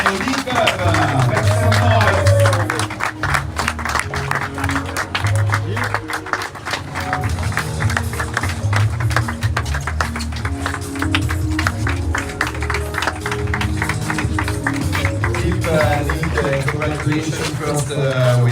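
A crowd applauds sailors Peter and Nicole at a Transat Jacques Vabre prize ceremony in Martinique, with sustained clapping under loud music and an announcer's voice throughout.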